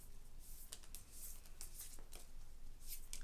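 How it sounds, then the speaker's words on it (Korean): Tarot cards shuffled by hand during a love reading, a steady run of crisp papery riffles and flicks close to the mic, with short bursts of snapping card edges and no voices. "카드 먼저 섞어 볼게요"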